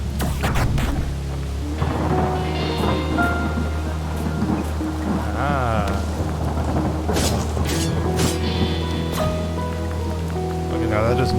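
Rain in the video game Unsighted, a steady patter and hiss under game music and effects, with a brief voice exclamation.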